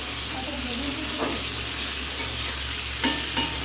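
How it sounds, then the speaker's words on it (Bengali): Steady sizzling of chopped onion and tomato frying in a pan, with occasional scraping stirs, close and continuous throughout. "এটা লাল লাল করে ভেজে নেব"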